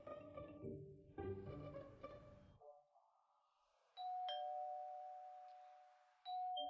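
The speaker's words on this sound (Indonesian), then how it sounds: "ada yang menekan bel pintu" A doorbell rings with two bright electronic ding tones, the first sustained for a couple of seconds and the second starting near the end, after a stretch of quiet talking and music.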